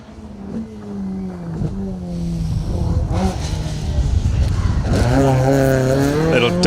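A Hillman Avenger rally car on a stage of the Colin Ellmore Memorial Rally slides under a dab of handbrake, its engine rising from a whine to a loud, close rev as the car passes.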